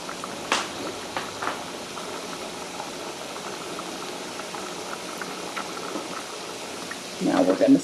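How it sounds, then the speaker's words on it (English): Rice at a rolling boil in a pot bubbles and burbles steadily at moderate volume, with occasional soft knocks and a louder rattling surge toward the end. "that rice come to a good rolling boil before I turn that off"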